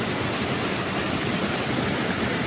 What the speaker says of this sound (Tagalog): kung makikita nyo, nandyan na yung Timangkuyog Falls